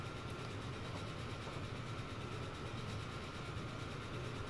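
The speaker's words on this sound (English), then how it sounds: "But this is a beautiful steam train." A steam train runs in the game Transport Fever 2, giving a steady, even rolling rumble with a faint rhythmic beat, heard alone at a constant, fairly quiet level.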